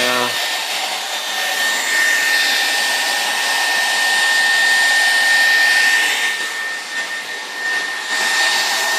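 A handheld blow dryer runs continuously at close range, giving a loud, steady whooshing whine with slight swells in airflow and no talking.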